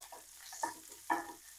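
Onions frying in sesame oil with popped mustard seeds in a pan, a steady soft sizzle with a couple of sharper bursts as pieces hit or get stirred, close and fairly quiet.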